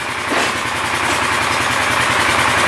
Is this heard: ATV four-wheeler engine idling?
yes